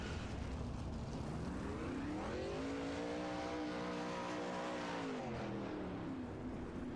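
Race cars in a sim-racing esports outlaw series event roar past on the track, engines rising and falling in pitch as they drive by and wind up under steady, loud, continuous engine drone.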